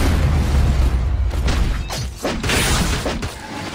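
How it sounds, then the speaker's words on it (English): An enemy turret destroyed in the video game Vainglory, a loud game effect of booming blasts and crashing mechanical debris with several bursts and a rumbling low end that fades toward the end. "Enemy turret destroyed."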